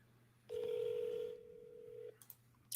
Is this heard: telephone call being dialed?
yes